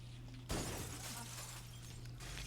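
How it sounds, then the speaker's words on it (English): A glass pane shatters loudly in the Halo: Combat Evolved Anniversary video game, a sudden crash followed by a long spray of tinkling shards over a steady low game hum. "that glass effect I actually really like"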